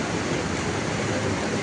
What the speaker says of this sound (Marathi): बघा किती पाऊस चालला आहे.